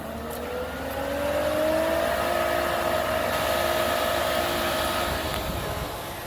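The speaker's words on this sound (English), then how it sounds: "In this case, we've got a Pentair 3-horse variable speed, and we're going to just turn it on and then hit quick clean." A Pentair 3-horsepower variable speed pool pump starting up and running steadily, its motor whine rising in pitch over the first couple of seconds and then holding a constant tonal hum, fairly close and loud, with no talking.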